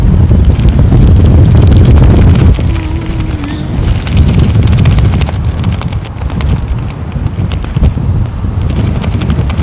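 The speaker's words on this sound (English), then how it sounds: "The wind is constant, mate." Strong, constant wind buffeting a microphone beside the runways at London Heathrow Airport, a loud low rumble that stays steady and close throughout with brief dips and gusts.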